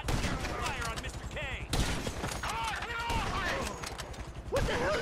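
Gunfire in the video game GTA 5 crackles in bursts through a busy, loud mix, with shouting voices over it and a sharp crack near the middle.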